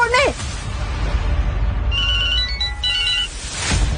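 A phone rings in a Hindi drama scene, a warbling electronic ringtone with repeated tonal bursts over a low background hum, rising mid-clip and fading before a voice begins.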